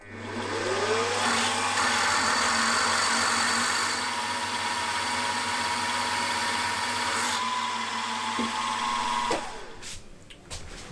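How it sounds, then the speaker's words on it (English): A steady drill grinds through a metal engine flywheel for several seconds, drilling holes and whining at a constant pitch before winding down near the end. "So this is just a matter of going round and drilling the six holes."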